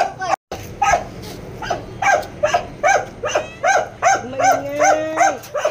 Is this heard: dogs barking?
yes